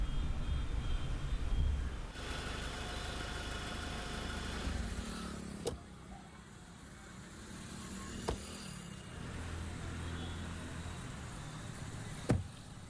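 A car engine idles after the vehicle stops, a low steady rumble that drops quieter partway through, with a few sharp clicks or knocks over the hum.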